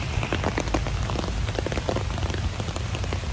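Rain falls hard and close in a dense, continuous patter of drops that stays loud and steady from start to finish.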